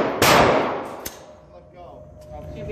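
A single gunshot cracks sharply at a gun range, loud and close, with a fainter second report about a second later and its decay trailing off into background noise.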